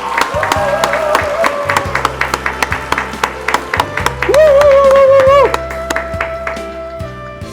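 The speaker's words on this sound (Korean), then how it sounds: "자, 이 두 분을 위해서 큰 박수로 맞이해 주시기 바랍니다." Applause welcoming speakers at an online event, with sharp individual claps in an irregular stream over a steady musical backing, a bright sustained tone swelling briefly in the middle.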